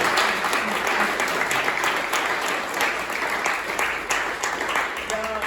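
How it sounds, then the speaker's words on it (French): Audience at the opening of the second Saint André book festival gives two guests sustained, full applause, dense and close throughout, with a voice surfacing faintly near the end. "Et on va les applaudir tous les deux"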